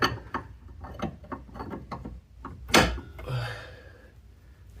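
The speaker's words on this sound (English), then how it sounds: "We'll get our wrench squeezed in underneath of our axle." Clicking ratchet wrench strokes loosening an outer tie rod under the axle of a Mitsubishi RVR, a quick irregular series of close metallic ticks followed by a louder clank and scrape.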